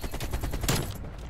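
An AK47 fires in Call of Duty Cold War in a fast, sustained automatic burst of loud, closely spaced shots that stops abruptly just before the end.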